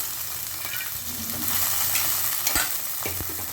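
Soaked chana dal and fried onions are mixed in a hot pan: a steady close sizzle with scraping stir strokes and a couple of sharp utensil knocks near the end, no voice over it.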